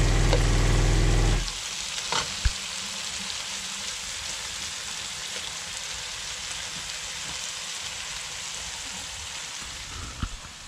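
Curry powder and garam masala sautéing in a pan, a steady close sizzle with soft stirring scrapes after a brief louder burst at the start.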